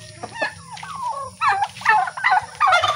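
Farm turkeys and chickens gobble and cluck while eating, giving a few loud, close, warbling gobbles over a low, busy background of pecking and murmuring birds.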